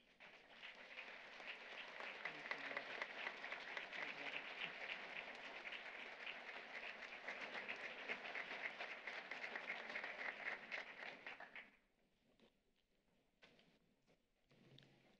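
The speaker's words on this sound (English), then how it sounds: "please stand and let's give them all an applause." An audience at a nursing graduation ceremony applauds in a long, even burst of clapping that holds for about twelve seconds, then drops off abruptly, leaving a few scattered claps in a quiet hall.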